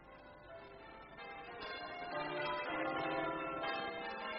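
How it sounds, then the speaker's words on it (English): Church bells of Fenchurch St Paul ringing in a steady, continuous peal of overlapping metallic tones, moderately distant and even in level throughout, with no voices. "The voice of the bells of Fenchurch St Paul."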